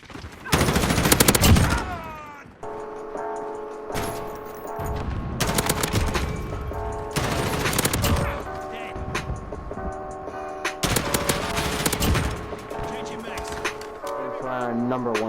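Rapid bursts of M4 rifle fire in a multiplayer shooter video game, loud and close, sustained volleys separated by brief pauses, with tonal game music or effects humming underneath.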